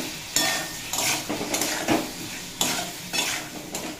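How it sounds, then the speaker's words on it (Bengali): Papaya and potato pieces frying with salt and turmeric are stirred in a pan, with loud repeated scraping strokes and a metal clink over a close, steady sizzle; nobody talks. "পেঁপে আর আলুর সাথে মশলা বেশ কিছুক্ষণ কষিয়ে নিয়েছি"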